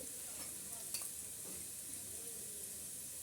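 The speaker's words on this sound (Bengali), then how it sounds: "পেঁয়াজগুলো ভেজে নিচ্ছি" Onions fry and soften in a pan of hot oil, a soft, quiet sizzle with a few light stirring scrapes and clinks, no talking.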